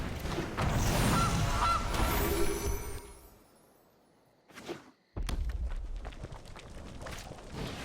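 Loud, raucous goose honking fills the start, fades to near quiet, gives one short honk, then returns in a dense noisy burst.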